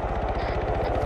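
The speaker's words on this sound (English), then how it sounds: "everyone can you hear the helicopter?" A helicopter in the Arma 3 video game thrums with a close, steady rotor chop in fast, regular pulses, loud and alone over the short stretch.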